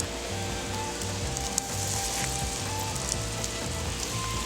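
Peaches sizzling in a hot pan for bourbon peach foster, a steady close crackle and hiss with faint scattered pops running evenly throughout, no voices.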